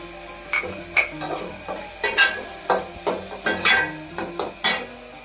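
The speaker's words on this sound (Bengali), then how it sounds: "পেঁয়াজটা আমি লালচে করে ভেজে নিয়ে এসেছি এই পেঁয়াজের ভিতর আমি এখন টমেটো কুচিটা" Chopped tomatoes and browned onions fry in a pan while a spatula stirs them, rhythmic scraping strokes about twice a second over a continuous sizzle, close and clear with no talking.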